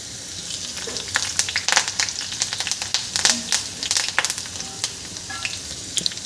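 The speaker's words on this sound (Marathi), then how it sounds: "आता यामध्ये आपल्याला कढीपत्ता घालायचा आहे" Garlic and curry leaves fry in a pan for a bitter gourd dish, with a loud, crackling sizzle and dense spattering pops that come and go unevenly, close by, and nobody speaks.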